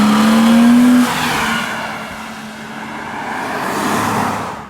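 A 1999 BMW Z3 M Coupé with 321 hp accelerating at full throttle, its engine note loud and close as a steady rising tone, followed by a sustained rushing roar that swells again toward the end.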